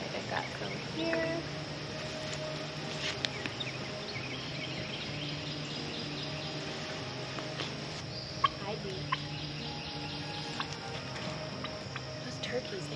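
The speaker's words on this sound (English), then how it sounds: "Those turkeys, they have the weirdest voices. Don't they sound funny?" Turkeys gobble in repeated short bursts at a moderate distance on a farm, faint against outdoor background noise, with a person talking at times.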